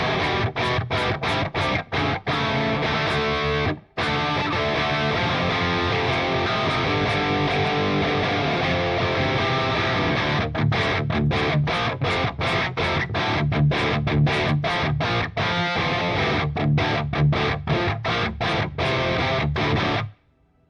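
An electric guitar plays rock to hard-rock riffs through a Mercuriall Audio AMPBOX amp simulator with a clear, driven tone. It is loud, close and continuous, with sharp rhythmic stops and one brief pause, and no talking.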